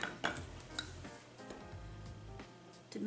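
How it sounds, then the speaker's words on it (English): Light brown sugar and cinnamon being stirred together in a small bowl for a honey bun cake streusel, with a scattered run of soft clinks and scrapes of a utensil against the bowl, fairly faint and close. "To mix the cinnamon thoroughly with the brown sugar."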